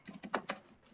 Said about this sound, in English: You hear him typing.